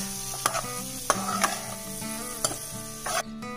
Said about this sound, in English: I'm going to now mix this well with the spices.